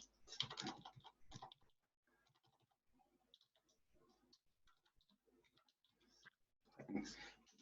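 Typing on a computer keyboard to run a Python script: quick, close clatters of keystrokes, strongest at the start and end, with lighter scattered taps in between, all quiet.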